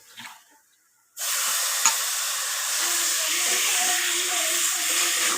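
Chicken pieces dropped into a hot pan with homemade spice masala and meat burst into a loud, steady frying sizzle after a brief quiet moment, the hiss holding constant with small crackles and a faint clatter underneath.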